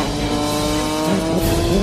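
Porsche 911 GT3 Cup race cars roar past on a wet track at Losail International Circuit, a continuous loud engine drone with hissing tire spray.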